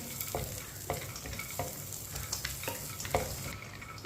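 Semolina roasting in a pan on low heat is stirred with a spoon, a low dry sizzle under repeated scraping strokes that come roughly every half second, close and fairly quiet, with no speech.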